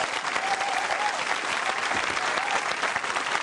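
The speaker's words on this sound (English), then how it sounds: "I'd like to give him a big round of applause" On the final night of a television talk show, a studio audience gives a big round of applause, a thick, even wash of many hands clapping that sounds loud and continuous throughout.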